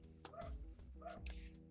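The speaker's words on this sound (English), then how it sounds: "Sorry if you hear my dogs barking" Household dogs bark faintly in the background, two quick yippy barks with whimpering tones, rather distant and soft, with no talk over them.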